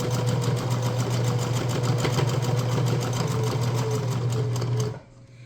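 A sewing machine back stitching a neck rice warmer runs steadily with a fast, even mechanical whir and rapid needle ticks, close and loud, for about five seconds before cutting off abruptly.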